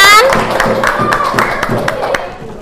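A classroom of schoolchildren claps, with sharp, uneven individual hand claps ringing out in a loose rhythm over a close voice that trails off at the start, gradually thinning toward the end.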